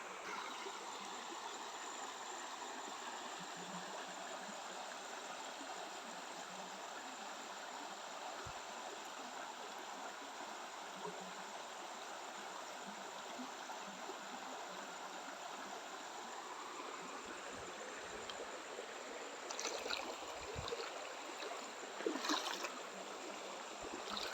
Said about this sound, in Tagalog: Malinis na ang sapa.